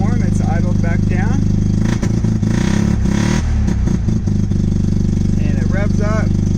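A warmed-up 1982 Mazda RX7 rotary engine with a carburetor idles steadily up close, with a burst of rattling clatter midway, while someone speaks over the running motor at the start and end.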